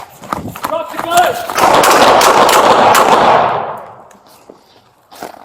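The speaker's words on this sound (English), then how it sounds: "shots fired." Several loud, close gunshots ring out in rapid succession during a police response in Louisville, followed by a long burst of dense, chaotic noise that fades; voices can be heard around the shots.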